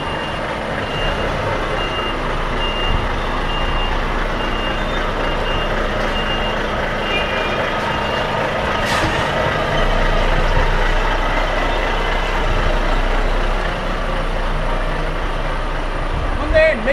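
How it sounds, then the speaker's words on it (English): A UK lorry's reversing beeps sound repeatedly, close and steady, over a low idling diesel engine in a loading yard, with occasional talk nearby and a brief hiss of air partway through. "So I'm waiting for paperwork now and then I can reverse out of here."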